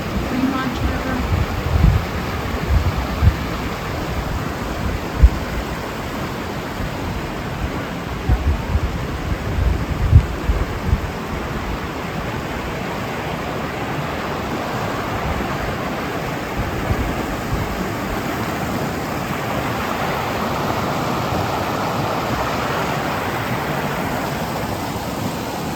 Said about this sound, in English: Ooh, yes, I thought I heard water. Look at that. That, I think, is the Fremont River.